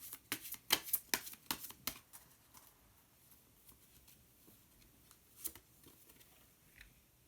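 Tarot cards being shuffled and drawn, a faint close run of crisp flicking and snapping clicks that thins out into sparse soft rustles and taps.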